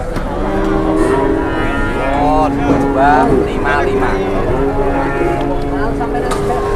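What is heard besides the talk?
cattle mooing at a cattle market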